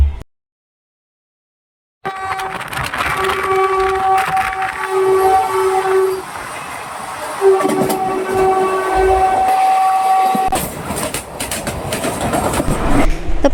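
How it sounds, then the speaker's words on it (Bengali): The Ganadevta Express pulls into Bardhaman station after a brief silence, with a loud, steady rail rumble and wheel noise layered with sustained high squealing tones, then a jolting burst of clatter near the end. "আর এখন ট্রেন ঢুকেছে বর্ধমান স্টেশনে।"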